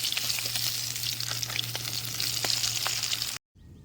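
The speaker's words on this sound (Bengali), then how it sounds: "মাছগুলো দেখেন বেশ সুন্দর লাল লাল করে ভাজা হয়ে গেছে" Pieces of large fish fry in hot oil in a village kitchen, a dense crackling sizzle with scattered pops and a low hum beneath, close and continuous before cutting off abruptly near the end.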